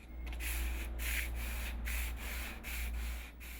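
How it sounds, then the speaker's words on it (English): Rhythmic hand sanding of a wooden boat, with repeated back-and-forth scraping strokes at a steady pace, close and alone. "The sanding alone has taken hours by hand."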